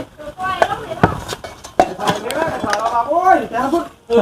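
Sharp knife chops land on a board in an irregular rhythm, mixed with clattering and people talking nearby.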